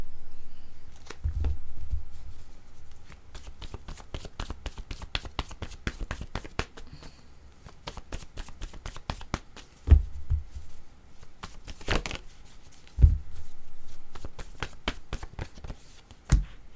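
Tarot or oracle cards are shuffled by hand for a card reading. There are rapid, close riffling and tapping bursts, with a few louder slaps as the cards are set down, and a voice speaks quietly now and then.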